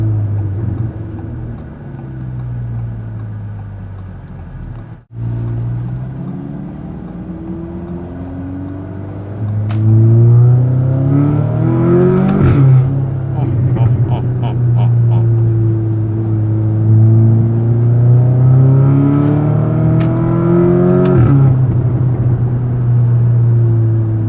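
A 2017 Audi S3 accelerating hard with its engine note rising and falling through gear changes, including a sharp break at a shift, loud and continuous from inside the car.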